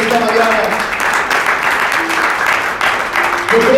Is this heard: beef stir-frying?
no